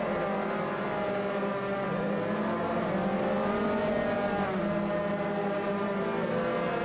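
Dallara F317 open-wheel race cars battle at Silverstone in a sim racing game, a dense, steady whine of several engines layered together, loud and continuous with gently wavering pitch.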